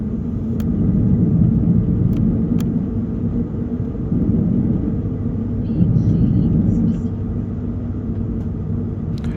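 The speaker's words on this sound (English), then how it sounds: "We were able to capture the entire takeoff roll." Heard from inside the cabin, an airliner makes its takeoff roll on a clear day: a loud, steady engine roar and low rumble that holds throughout, with faint clicks and rattles on top.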